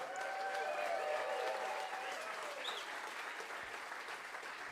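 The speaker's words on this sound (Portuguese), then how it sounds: "Palmas pro Simon na batera." An audience at a music clinic gives steady, dense applause for drummer Simon, a continuous wash of clapping with a few faint whistles and cheers over it.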